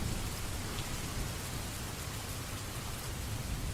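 Steady rain from the Rainy Mood website patters on a window as a dense, even hiss with soft low rumbles, continuous and unbroken throughout, with no voices.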